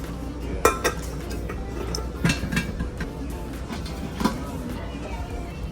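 Cooking pots and casseroles are handled in a shop, giving a few sharp metallic clinks and knocks spaced out over a few seconds while people talk nearby.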